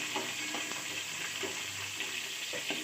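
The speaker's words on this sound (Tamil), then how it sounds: "நம்ம உரித்து வச்சுருக்க வெங்காயத்தை அதில் ஆட் பண்ணுறோம்." Onions sizzling and frying in a pan over medium flame for sundakkai kulambu, a steady close hiss with soft stirring scrapes and no talk.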